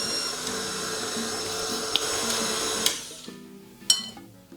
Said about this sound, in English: And mix on low speed until the flour disappears.